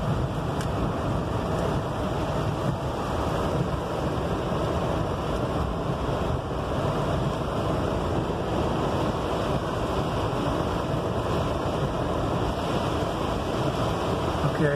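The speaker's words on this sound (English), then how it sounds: "if you get a bunch of water on the road, like what we got right now" Loud, continuous roar of water and spray under tires as a vehicle drives along a flooded road during a thunderstorm in San Antonio, a steady broadband wash with wind-like noise and no talking.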